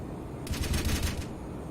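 A rapid burst of jet cannon fire from the To-201 Shikra in Arma 3, a dense run of shots lasting under a second, loud and alone against a steady engine drone.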